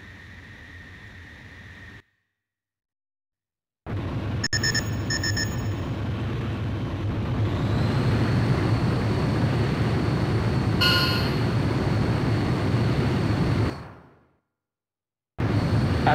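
An F-14D Super Tomcat jet launching in the Ace Combat game, a loud steady roaring engine rush with a rising whine, cut by brief silent gaps and a couple of short electronic beeps, with no talk.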